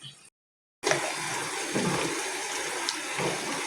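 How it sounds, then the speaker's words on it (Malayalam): Washed rice is tipped into a pot of boiling water; after a brief silence a close, steady watery rush and bubbling fills the rest, with no speech. "ഇനിയിപ്പോൾ നമുക്ക് വെള്ളം തിളച്ചിട്ടുണ്ട്, അതിലേക്ക് ഇട്ട് വെക്കാം."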